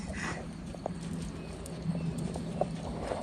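A Tennessee Walking Horse gaits, its hooves making a quiet, even clip-clop at a steady rhythm, soft and somewhat distant under outdoor background noise.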